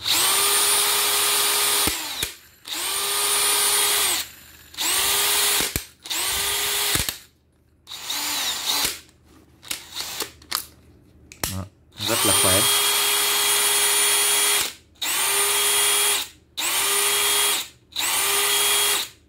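A DeWalt DCD796P2 cordless drill spins at high speed, about 2,000 rpm, in about eight short bursts of close, loud whirring. Each burst starts and stops sharply, with brief quiet gaps and spin-downs between them.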